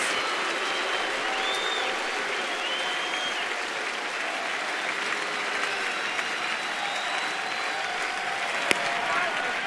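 A large baseball stadium crowd at a Phillies at Nationals game in the top of the ninth inning makes a steady, dense roar of cheering and noise that fills the whole stretch without letup.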